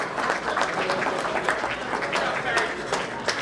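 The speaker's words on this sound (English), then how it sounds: "One more round of applause for our winners for the day." Crowd applause for the day's winners at a memorial foundation charity golf outing, a dense, steady clapping from a group of people sustained for several seconds, with some voices mixed in underneath.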